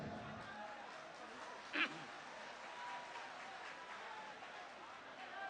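Audience at a mushaira poetry recital in Calcutta clapping in a steady, far-off applause that stays low and even throughout, with a brief sharp knock near the start.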